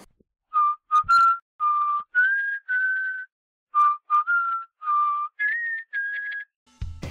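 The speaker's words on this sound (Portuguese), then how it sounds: "Uma forma fácil de entender é você assobiar uma música." A person whistles a song melody alone, a dozen or so clear sustained notes in short phrases with brief gaps, fairly loud and close, with a small click at the end.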